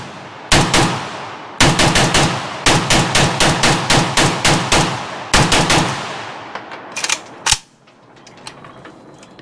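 Arsenal SAM7SFC carbine firing with a surplus metal magazine outdoors, sharp loud rifle shots in several quick strings of rapid semi-auto fire separated by short pauses, ringing echoes trailing off between them, ending with a last few scattered shots.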